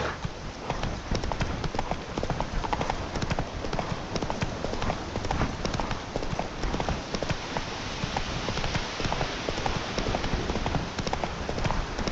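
Horse hooves gallop fast in The Witcher 3, a dense, continuous drumming clip-clop heard close and loud, with faint voices now and then under the hoofbeats.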